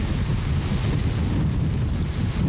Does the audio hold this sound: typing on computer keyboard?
no